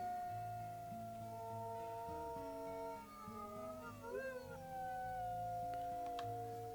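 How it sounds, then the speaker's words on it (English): A wolf pack in the WolfQuest video game howls together, several sustained, overlapping tones gliding and wavering over a steady droning game soundscape, fairly quiet throughout. "let's go ahead and do a howl with the pack"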